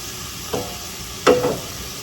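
Sugar browning in a pan for sticky turkey wings and cabbage, with two short bursts of sizzle and spoon scraping against a quiet background.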